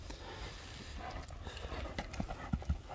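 A horse runs over soft, heavy ground, its hooves landing in faint, muffled thuds that grow a little stronger toward the end, with no talk.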